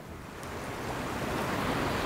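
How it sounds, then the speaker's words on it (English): The Mattawamkeag River in Bancroft, Maine, rushes in a steady broadband wash that swells slightly, close by and continuous with no voices. "This is the Mattawamkeag River."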